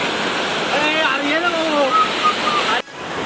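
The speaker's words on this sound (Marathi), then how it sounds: "मित्रांनो बघू शकता तुम्ही वॉटरफॉल. खूप मस्त आहे." Rushing waterfall in Lonavala during the rainy season, a steady broadband roar of falling water with people talking over it, cut off abruptly near the end.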